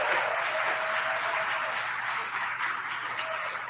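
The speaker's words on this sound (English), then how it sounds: "people are cheering. We're supposed to clap here." Steady applause from a crowd at a cube draft tournament, moderately distant and even, continuing without a break.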